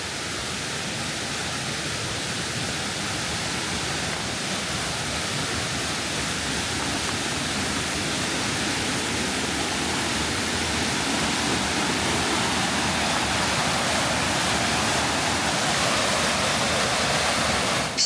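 Mountain valley stream water flowing steadily over rocks on a late-summer hiking trail near Seoul, a continuous broadband rush that stays loud and unbroken, with no voices heard.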